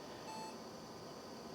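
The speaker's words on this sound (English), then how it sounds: "oh, that's a happy beep." An HP Kayak XA computer gives a short startup beep at power-on. The brief tone sounds early, over a loud, steady fan hum that continues alone afterward.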